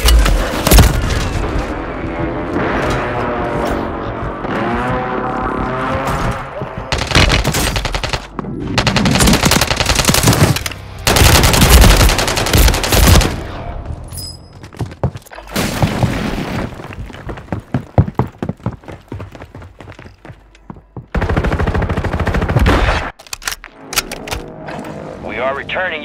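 Loud airstrike explosions and rapid machine-gun fire in a Call of Duty Warzone battle on PS5, with repeated booming blasts and dense bursts of shooting over about twenty-six seconds, and game voices heard among the chaos.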